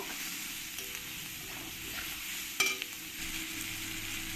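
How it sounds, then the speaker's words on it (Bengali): Onions with salt and turmeric are stirred in a frying pan, a soft steady sizzle with a few scraping strokes of a spoon, quiet and close with no talking. "এবার দিয়ে দেবো ওই পেঁয়াজের মধ্যে আমি এক চামচ লবণ আর দিয়ে দেবো একটু হলুদ দিয়ে ভালো করে সব কিছুর সঙ্গে আমি মিশিয়ে নেব"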